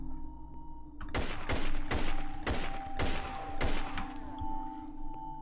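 Six loud, close gunshots from the video game Barbarian Trash, fired at a steady pace about half a second apart over a constant background hum.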